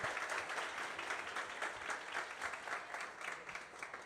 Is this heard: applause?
yes